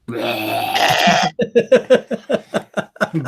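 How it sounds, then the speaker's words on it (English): Barney's belch sound effect from The Simpsons plays loud and close: a long raspy eructation followed by a rapid train of rhythmic gulping hiccup-like bursts. "Barney belches. It's great."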